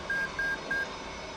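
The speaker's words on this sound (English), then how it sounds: "that beeping that you just heard was the FCS bit test, built-in test, finishing itself" The F/A-18C flight control system's built-in test sounds three evenly spaced, identical electronic beeps as it finishes, clear over a steady background hum with no one talking.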